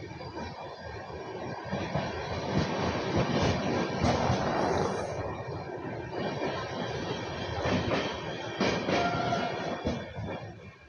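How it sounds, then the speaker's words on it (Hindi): Chhattisgarh Express, train 18238, pulling into Muzaffarnagar railway station at night, a loud, close, continuous roar of rolling wagons with rhythmic wheel clatter and occasional squeals across the whole stretch. "चलिए आपको दिखाते हैं मुजफ्फरनगर रेलवे स्टेशन पर ट्रेन का अराइवल।"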